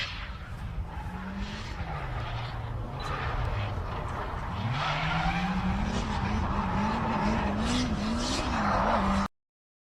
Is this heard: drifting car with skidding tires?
yes